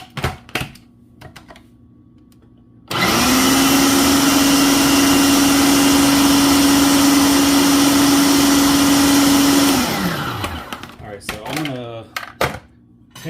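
A food processor blends guacamole ingredients in a sudden loud, steady whirring hum that runs for about seven seconds and then winds down, with soft kitchen clatter before and after.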